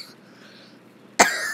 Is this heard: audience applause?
no